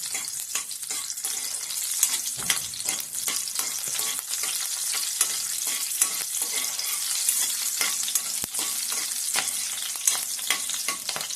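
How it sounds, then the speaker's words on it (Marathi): Chillies roast and sizzle in a hot pan for a Konkan-style chawli leaf bhaji, with a steady crackling frying hiss throughout and occasional stirring clicks, close and alone without talk. "तर आता आपली मिरची भाजलेली आहेत"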